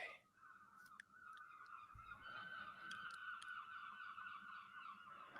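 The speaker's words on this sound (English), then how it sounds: "I hear some beautiful birds in the background" Loud goose-like honking calls outside, a steady stream of overlapping squawks from several birds, fairly near, with faint background noise.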